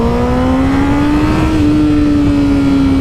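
A 2017 Honda CBR 1000RR sportbike's engine holds a loud, steady drone while riding, with a slight pitch rise and wind roar underneath and no speech.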